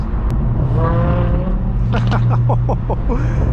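A Lamborghini Huracan's naturally aspirated V10 engine rumbles and revs loudly nearby at a car meet, with sharp rising pulls and pops under crowd chatter.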